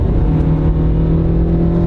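A Honda car's engine drones loudly and steadily as it is floored to pass on the highway, a close, sustained in-cabin roar with no talk.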